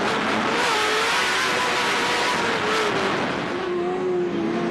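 Onboard an off-road race truck at Lake Elsinore, the engine roaring continuously at high revs as the driver feathers the throttle over jumps, with pitch rising and dipping under a dense wash of noise.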